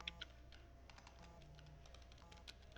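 Quiet, close typing on a computer keyboard while entering text in Microsoft Word, with soft, uneven clicks and a few sharper keystrokes against a low background hum.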